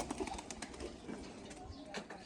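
A pigeon coos softly nearby in faint, low murmurs against a quiet background.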